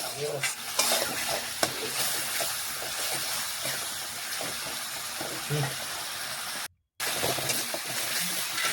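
Spice paste with salt and a splash of water being stirred in a pan for a cauliflower and fish dish, a dense steady sizzle with soft scraping strokes, briefly cutting out near the end.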